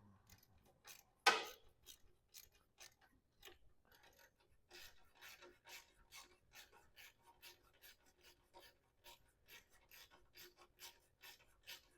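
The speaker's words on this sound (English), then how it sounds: "And there's a little 1/4 inch ratchet." A small 1/4 inch ratchet works a bolt on a Farmall 140 tractor, giving a faint, steady run of quick rasping clicks close by, with one louder scrape near the start.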